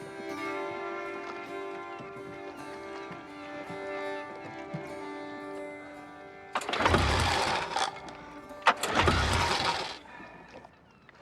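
A car engine is cranked with trouble, first a faint humming background with light clicks, then two loud, rough bursts of cranking and sputtering close by, each lasting over a second, without the engine catching.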